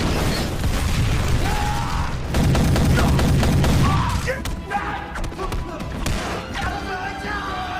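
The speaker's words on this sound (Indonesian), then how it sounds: "menabrakkannya ke helikopter yang membuat heli tersebut jatuh dan meledak" Heavy booms and rumbling blasts of a helicopter crashing and exploding roll through a dense, noisy film action sequence, with crashing impacts and debris over a loud mix.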